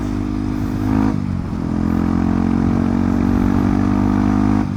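A Kawasaki motorcycle engine runs steadily and loud up close, a continuous rumbling drone with a brief dip in the middle and no voices.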